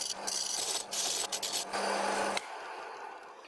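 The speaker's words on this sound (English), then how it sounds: "I will saw off the end and try again." A handsaw cuts off the end of a wooden workpiece on a lathe, rapid rasping strokes in close bursts that stop partway through, leaving quieter room noise.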